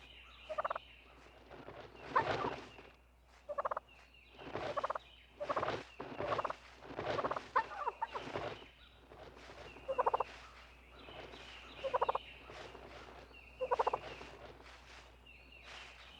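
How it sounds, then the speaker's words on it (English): A dominant wild turkey tom gobbles in repeated loud bursts spaced a second or two apart, with softer clucks and purring sounds between calls, fairly close and without talk. "Invited with purring sounds, the dominant tom struts closer."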